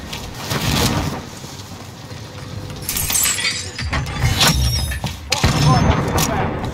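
Gunfire in Call of Duty Warzone: several sharp, loud bursts and cracking impacts scattered over a noisy game soundscape, with voices talking throughout.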